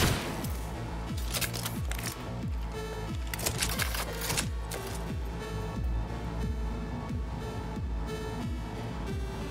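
Repeated rapid gunfire in the Cyberpunk 2077 shooter game, sharp bursts of shots stacking into a continuous loud barrage with brief lulls.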